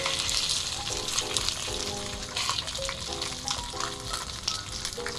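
Salmon fillets laid skin side down in a thin layer of hot vegetable oil, a lively close sizzle with crackling spits and brief fluctuating bursts, no speech.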